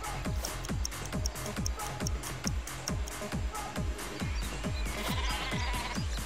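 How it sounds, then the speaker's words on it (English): Super sheep bleating in the game Worms Clan Wars during a LAN match: a rapid, regular series of loud bleats repeating throughout, over steady game background sound. "here comes the next gen super sheep in between the gap he made"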